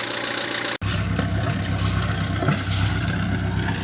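A boat's inboard main engine idles with a low, even rumble and faint rhythmic throb, continuous and close, briefly cut off near the start; a River Thames motor boat.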